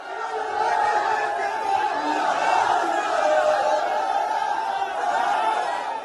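Large crowd at a Samajwadi Party rally in Kannauj, a sustained mass of shouting and chanting voices with a steady roar, rising briefly and holding throughout.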